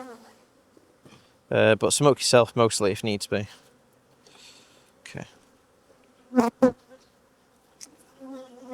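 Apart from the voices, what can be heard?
honey bees buzzing at an opened hive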